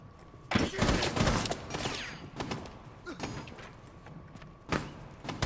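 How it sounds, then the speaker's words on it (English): Gunfire in the Rainbow Six Siege video game: a loud burst of shots near the start, then sporadic single cracks and impacts, with a final sharp blast near the end. "they're shooting from the doorway"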